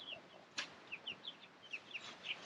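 Brown and white backyard chickens give soft, faint clucks and chirps in a loose, irregular run, with one sharper short call standing out. No one speaks over them.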